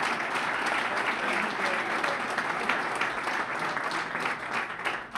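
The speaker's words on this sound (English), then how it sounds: "Let's give Antonio a round of applause for his leadership." A dinner audience at a Washington, DC tribute to mayors applauds Antonio, a dense, sustained roar of many hands clapping at once, loud and unbroken for the whole stretch.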